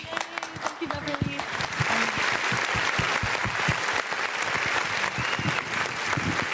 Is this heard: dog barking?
no